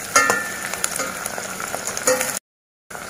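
Chopped onion sizzles and fries in a pan for a Maharashtrian Daivadnya-style mutton curry, a steady close crackle with light stirring scrapes, then a brief cut to silence near the end.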